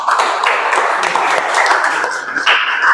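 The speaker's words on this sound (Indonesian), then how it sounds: "Kita beri tepuk tangan dulu." Audience in a classroom presentation session clapping together in a dense, steady burst of applause for about three seconds, close and loud, with no talk over it.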